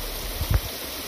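Creek water streams and rushes steadily near small waterfalls, with a brief low splash or knock partway through the short stretch.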